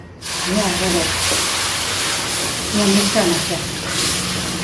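Milk is poured into semolina in a hot pan, raising a loud steady steaming hiss and sizzle that persists close-up, with faint voice-like tones surfacing briefly.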